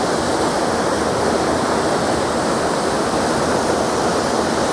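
A narrow, embanked, turbulent tributary of the Neretva river in Mostar rushes past in a loud, dense, unbroken roar of churning water.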